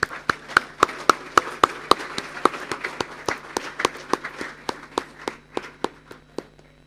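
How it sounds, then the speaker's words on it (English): Scattered hand claps from a graduation ceremony audience, a sparse, fairly close rhythm of individual claps that gradually thins out and fades toward the end. "We'd like to give one more round of applause for all that has been given."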